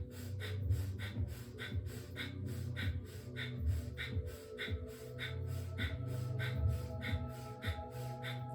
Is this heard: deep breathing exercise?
yes